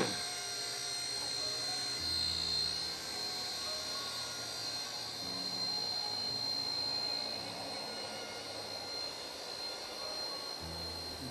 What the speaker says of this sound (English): Beautiful aircraft.